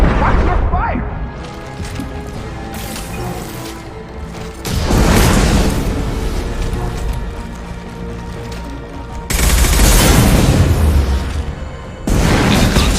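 Gunfire and blasts from the Mass Effect 2 combat on Omega: rumbling booms and crashes come in heavy bursts, with a low battle din in between and voices talking over the action.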